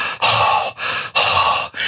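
A preacher imitates a mighty rushing wind with heavy breathing: two long, loud, airy exhalations separated by brief sharp gasps, close and alone without other speech.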